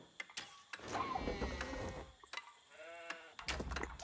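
Sheep bleating in a medieval real-time strategy game match, several wavering, nasal bleats in quick succession mixed with clicky game effects and a busy background.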